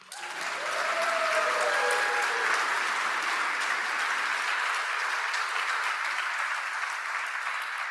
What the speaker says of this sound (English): And I think we all deserve a round of applause.